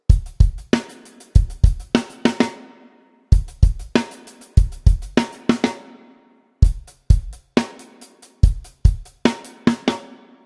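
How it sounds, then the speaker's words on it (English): Snare and double bass drum fill from the verse of a song, played on a drum kit as four repeated bursts of rapid kick and snare strokes with crashing cymbals, loud and close, with no talking. "verse fill number 1 sounds like this"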